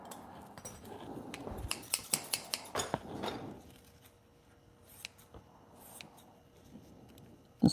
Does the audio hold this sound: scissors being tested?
yes